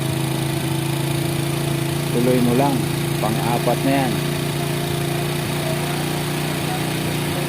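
A Honda Wave 100 motorcycle engine with a stock replacement carburetor idles steadily during carburetor tuning, a constant buzzing hum that runs throughout while someone speaks over it.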